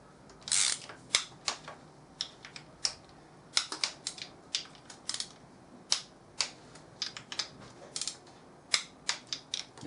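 Sharp mechanical clicks from a torque wrench tightening clutch bolts on a Triumph Tiger 800XC during a clutch overhaul, a quick burst of ratchet clicks followed by many separate crisp ticks spaced irregularly, close and clear with no talking.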